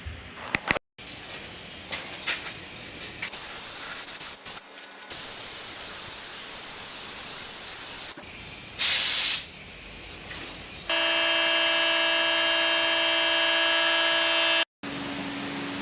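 A spray gun applies epoxy primer to a car's trunk floor and taillight panels in a steady loud hiss. The hiss runs in long passes broken by brief pauses, and a tonal compressor-like whine comes in near the end.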